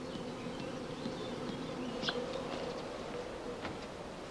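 Honey bee colonies at an apiary, recently fed sugar syrup, buzzing in a faint continuous drone with occasional nearer insect passes, steady and without voices.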